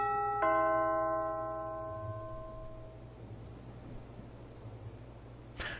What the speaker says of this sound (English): Should I ring the doorbell or... I'll be nice.